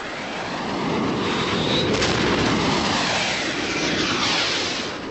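An Israeli air attack bombing Egyptian airfield runways, heard as a dense, loud roar of aircraft and blasts that swells and then fades, with no clear individual impacts.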